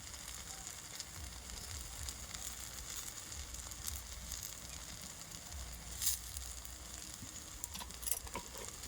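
Rice and chana dal batter topped with spiced vegetables sizzles softly in a pan, a steady, faint hiss with light crackles and no voices.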